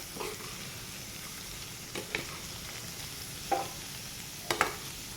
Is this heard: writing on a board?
no